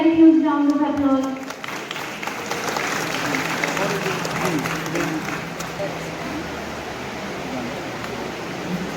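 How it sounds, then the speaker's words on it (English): An audience at a college society function applauds, a dense, sustained wash of clapping that swells after a brief spoken introduction and continues steadily for several seconds. "Please give a very huge round of applause."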